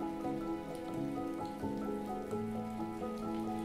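Steady rain patters on surfaces, soft and continuous, under a calm layer of sustained tones throughout.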